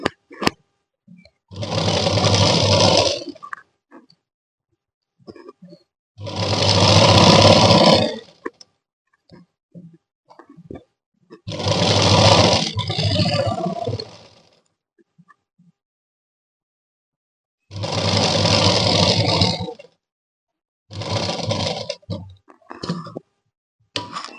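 A sewing machine stitches a lined suit in five separate loud, close bursts of rapid whirring, each a few seconds long, with quiet gaps and small handling clicks between them.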